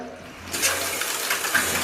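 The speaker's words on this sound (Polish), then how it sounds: "Leci woda." Shower water starts running in a newly bought house, a steady broadband hiss that rises abruptly after a half-second of near silence and continues close and even.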